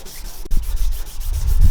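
Steady abrasive rubbing of sandpaper against a car headlight, continuous and close, with a brief sharp tick partway through.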